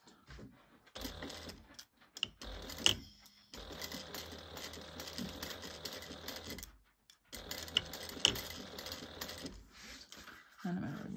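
A sewing machine stitches a fabric tomato pouch along a quarter-inch seam, running in close mechanical bursts of rapid stitching broken by short pauses, loud and near.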